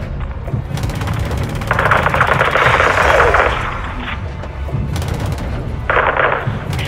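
Air support fire pounding a greenhouse in Call of Duty Modern Warfare II: loud sustained rapid gunfire in long bursts, pausing briefly between volleys over a rumbling background.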